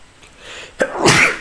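A single sharp sneeze, preceded by a brief inhale, close and clear against quiet background.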